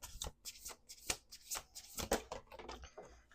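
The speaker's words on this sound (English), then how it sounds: "Let's do 2 more shuffles." A deck of cards being shuffled by hand at a tarot-style reading table, a series of quick riffling bursts and soft snaps in uneven rhythm, close and quiet with no talking.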